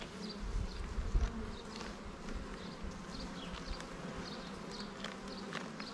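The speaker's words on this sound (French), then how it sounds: "Donc plutôt assez calme les abeilles là pour de l'abeille noire" Black honeybees hum steadily around an open hive during a calm inspection, a close, continuous buzzing with individual bees passing near, soft thumps underneath.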